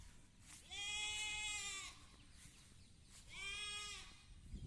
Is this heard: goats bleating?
yes